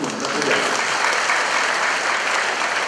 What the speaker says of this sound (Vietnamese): xin tổng đoàn cùng một tràng pháo tay để chúc mừng các tác giả